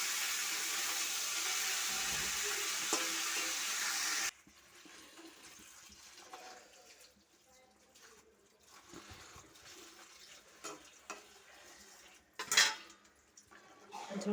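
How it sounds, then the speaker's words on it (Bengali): Cauliflower sautéing in a pan for an egg curry gives a steady, loud hiss for about four seconds, then drops to a quiet background with scattered clinks and scrapes of a utensil against cookware. "ফুলকপিটাকে আমি কষিয়ে নিচ্ছি।"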